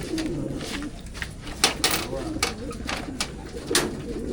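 Soft, repeated cooing of racing pigeons being basketed for a training toss runs throughout, with occasional flutters and clicks, while people talk in the background.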